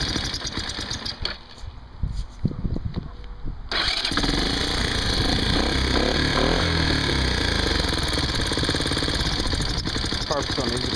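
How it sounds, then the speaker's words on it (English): A 1984 Honda ATC200ES three-wheeler with electric start fires up after a few seconds of cranking, then runs loud and close with a steady, throaty idle and slight rises in revs. "the electric start works. Let me give a little gas."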